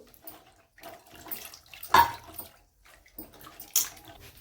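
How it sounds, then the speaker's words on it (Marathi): Water splashes and trickles in short bursts as drumsticks are rinsed by hand, close and intermittent with quiet gaps between. "आता आपण शेंगा धुवून घेऊ"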